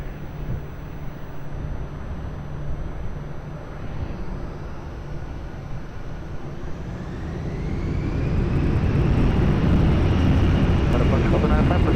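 A passenger jet takes off at Lisbon Airport, its engine roar holding steady and then swelling louder and closer toward the end, one continuous broadband rumble with a rising whine.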